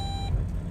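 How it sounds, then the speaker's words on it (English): A steady electronic car warning beep sounds for a moment, then cuts off, leaving low rumbling background noise. "I hate it when my car just beeps at me for no reason"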